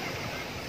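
Waves wash in on a fine-pebble and sand beach with a gently sloping entry at a Belek resort in Turkey. A steady near surf wash is heard under light wind noise on the microphone, with no talk.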